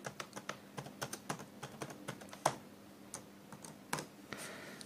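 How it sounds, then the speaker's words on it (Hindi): A password being typed on a computer keyboard, heard as a close, steady run of sharp key clicks with irregular spacing and a few harder taps, with no talking. "यहाँ पे मैं दोबारा से टाइप कर देता हूँ गाइस ठीक है तो कंफर्म कर देना अपने पासवर्ड"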